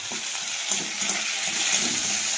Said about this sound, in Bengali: ভালোভাবে এটাকে ভেজে নেব